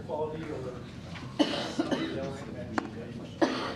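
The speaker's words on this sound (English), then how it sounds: "I think people are coughing." Several short coughs burst out at irregular moments over a murmuring board meeting room full of faint voices, on a poor air quality day, a couple louder and closer than the rest.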